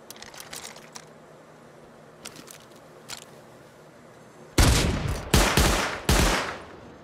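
Gunfire in the survival game Rust: faint scattered shots at first, then three loud, close bursts of rapid automatic fire in quick succession near the end, with no talking.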